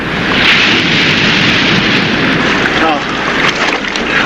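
Ocean breakers roll onto the north shore of an island in a loud, continuous roar of surf and spray, close and heavy, with wind buffeting throughout.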